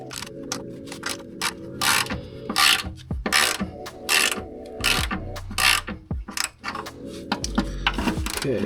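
A ratchet works on Jeep Wrangler TJ skid plate bolts, giving close, rapid bursts of clicking strokes in an uneven rhythm with short pauses and a few dull metal knocks between.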